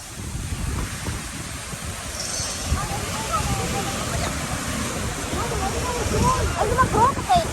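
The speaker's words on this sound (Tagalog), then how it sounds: "Grabe ang lakas ng alon." Strong ocean waves crash and surge along a windy Boracay shoreline, a loud continuous roar with wind buffeting the microphone and faint voices mixed in.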